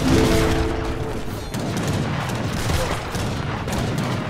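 Cannon blasts and musket gunfire from an Age of Empires 3 battle, loud overlapping booms and crackling shots packed densely with no pauses, a continuous barrage.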